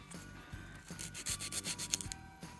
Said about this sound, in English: Now I'm using like the coarse side of the 100 grit side of my file and getting in there.